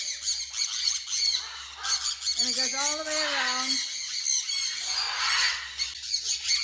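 Birds in a large backyard aviary squawk and screech repeatedly at close range, with one longer wavering call in the middle, while a person talks over them.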